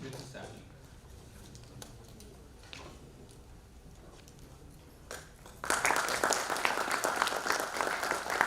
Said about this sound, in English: Please give a big round of applause for Mr. Sandeep.